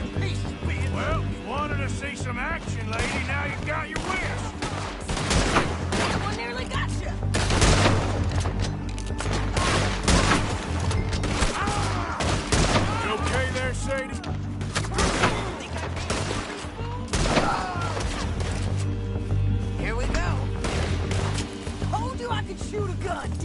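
Gunfire in the PlayStation 4 video game Red Dead Redemption 2, with volleys of shots and bursts over a steady loud mix of game sound, continuing through the whole stretch while voices talk over it.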